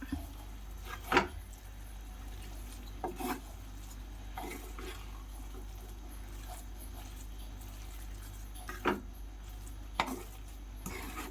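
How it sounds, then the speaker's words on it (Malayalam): A spoon stirs fish peera in a pan, giving a handful of soft, scattered scrapes and knocks over a quiet background hum. "ഒഴിച്ചു കൊടുത്തിട്ട് മറച്ചിട്ട് ഒന്ന് ഇളക്കി കൂട്ടാം."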